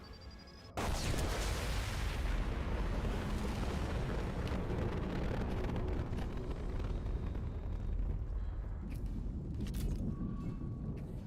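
Explosion in the video game Mass Effect 2: a sudden loud blast followed by a sustained, dense roar of fire and rumbling debris that continues for many seconds.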